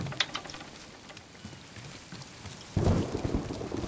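Thunder rumbles and heavy rain pours during a storm in the underwater exploration game Submerged: Hidden Depths, with steady rainfall building to a louder, close downpour partway through.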